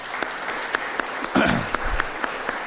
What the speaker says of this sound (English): You want to give a round of applause for